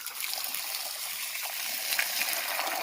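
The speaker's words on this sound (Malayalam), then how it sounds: "ഇനി ഇത് വെള്ളം നിറച്ചിട്ട് നമുക്ക് ഇതൊന്ന് ക്ലീൻ ചെയ്തെടുക്കാം." Water running and trickling into a pot of taro for washing, a steady close splashing flow that swells slightly toward the end, with no voices.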